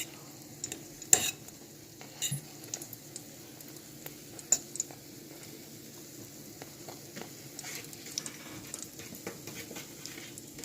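Festival dumplings frying in oil in a pan on a stove at low-medium heat, a steady soft sizzle with scattered pops and occasional sharp clicks of a utensil, close and continuous with no talking.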